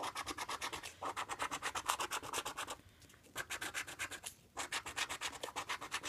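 Repeated rhythmic scratching of a coin over a scratch-off lottery ticket, fast close strokes in bursts with two brief pauses, no talking.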